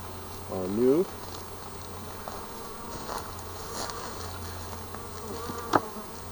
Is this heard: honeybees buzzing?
yes